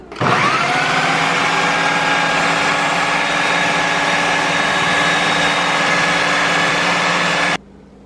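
A grinder whirs loudly and steadily at high speed as it blends seekh kabob meat with spices, ginger and garlic, spinning up at the start and then cutting off abruptly near the end.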